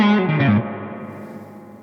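Distorted electric guitar plays an opening lick through a wah pedal, a quick run of bent notes followed by a long sustained note that rings out and fades.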